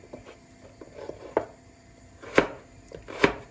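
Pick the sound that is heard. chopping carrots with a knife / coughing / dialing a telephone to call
chopping carrots with a knife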